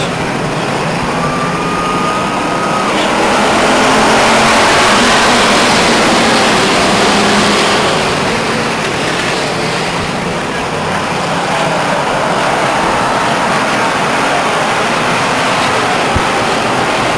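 Race cars roar around Stockton 99 Speedway at green flag, a loud continuous engine wash that swells and fades as the pack passes, with a faint tone near the start.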